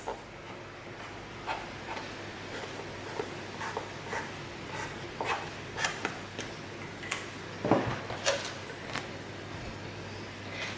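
A pen drawing a small triangle on paper gives soft, faint scratchy strokes, short and repeated in an irregular rhythm, close by and alone without talk.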